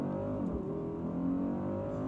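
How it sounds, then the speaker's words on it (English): Mercedes-Maybach GLS 600 engine building revs at a standstill with the brake held before a launch in sport mode, a steady, loud, rising drone heard from inside the cabin. "now I'm gonna hold my foot on the brake, pin the throttle, build up the revs"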